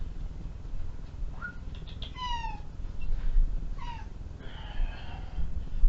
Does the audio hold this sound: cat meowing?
yes